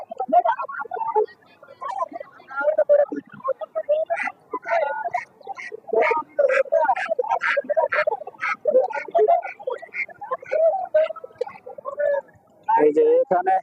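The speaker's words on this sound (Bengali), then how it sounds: "দেশি হাঁস আর কি" Domestic ducks quack and honk in repeated bursts at a busy duck market in Golakandail, Dhaka, close by and mixed with people's voices throughout.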